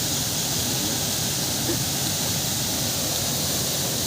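A waterfall roars as a dense, constant rushing hiss, steady and loud throughout with no breaks or other clear sounds.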